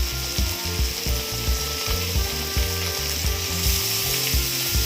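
Spices, including chilli powder and pepper powder, fry in a pan for red fried rice, with a steady sizzle under a close, rhythmic clatter of stirring and scraping.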